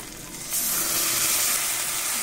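Ground spice paste hits hot oil in a pan while cooking a Bengali shol fish curry with potato and cauliflower, setting off a loud, steady sizzle that jumps up half a second in and then hisses on without a break.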